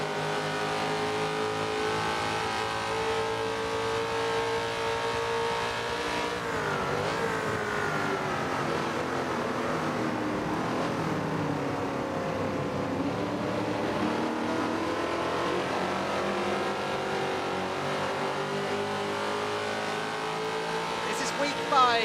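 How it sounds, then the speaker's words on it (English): V8 race car engines roar around a track in the Forza racing game, a dense, continuous revving drone with shifting pitch sweeps as cars accelerate and pass, loud and sustained throughout. "the sound of these awesome V8s as they head around the track"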